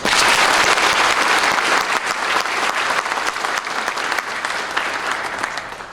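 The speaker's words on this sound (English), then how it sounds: "Let's give the Navy a round of applause." An audience at a school Veterans Day program claps for Navy veterans, a full, loud wash of crowd applause that starts strong and gradually eases toward the end.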